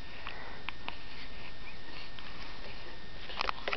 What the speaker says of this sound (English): Oh, there's another sneeze.